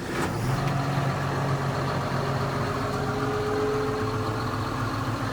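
A tractor engine, one with a little over 1,100 hours on it, runs at a steady idle with a continuous low rumble, close and fairly loud, with no talk over it.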